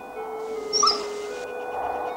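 A loyal, well-behaved dog gives a short, high-pitched whimper near the middle, a brief whine over a faint steady background tone, with no voices.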